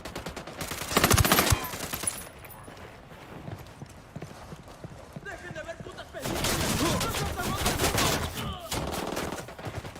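Gunfire in Ghost Recon Wildlands, with bursts of shots in two loud clusters between quieter stretches, mixed with clopping hoofbeats and voices talking.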